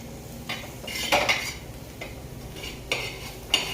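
A spoon scrapes and clinks against metal cookware several times, scooping fried onion into a mixer jar, close by, with quiet pauses between the scoops and no talking.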